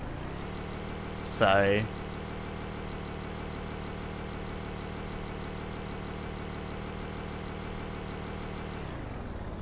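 A low, steady V8 engine idles throughout on a car in a Minecraft vehicle mod, with a brief burst of speech near the start.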